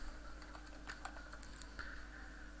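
Computer keyboard typing, a quick run of light, close key clicks at an uneven pace over faint steady background hum.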